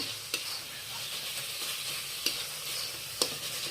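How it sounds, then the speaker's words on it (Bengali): Dried fish chutney with tomatoes being stirred in a pan, a steady sizzle and fry running throughout with a few sharp scrapes of the spoon against the metal. "ওটা নাড়াচাড়া দিতে হইব আর টমেটোটা পুরো গলায় নিতে হইব"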